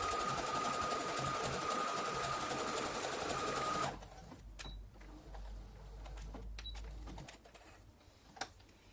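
A sewing machine stitches a test seam on a small scrap of fabric with a fast, even mechanical whir for about four seconds, then stops abruptly and leaves faint clicks and handling noises.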